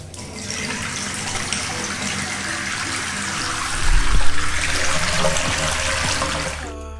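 Water sloshes and runs in a bathtub during a bath bomb test, a steady splashing wash that swells louder with a heavy plunge partway through, then a sharp clatter at the very end.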